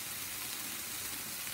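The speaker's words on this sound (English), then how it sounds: "Can you hear the sizzle?" Vegetables for an omelette frying in a pan, a soft, steady hiss of sizzling, faint and continuous with no talking.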